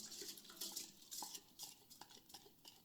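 Uncooked rice being scraped into a pot of water with a small spatula, soft irregular scraping and light clinks of utensil against cookware, fairly quiet.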